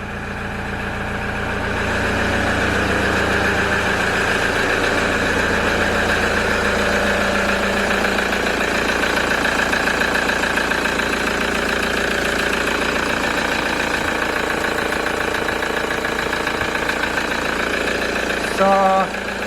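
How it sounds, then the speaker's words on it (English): A Toyota Hilux engine settles into a steady idle after being started, a loud, close, even mechanical drone with a low throb that runs continuously throughout. "Now its engine is running."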